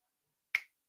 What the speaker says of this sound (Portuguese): num estalar de dedos.